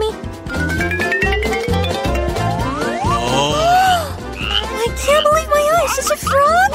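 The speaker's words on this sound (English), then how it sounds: "is a frog?" Cartoonish frog croaks in a comedy sketch about sneaking pets onto a plane, repeated boingy pitch-bending croaks and warbles layered over a loud, busy music bed.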